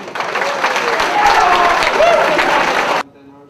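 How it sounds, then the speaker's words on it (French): A conference audience breaks into loud, sustained applause with cheering voices mixed in, stopping abruptly after about three seconds. "Applaudissez-vous, vous savez ce que vous voulez."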